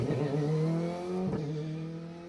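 A Subaru rally car races past on an asphalt stage, its engine note loud and close, climbing through a gear before a quick shift and then pulling steadily away.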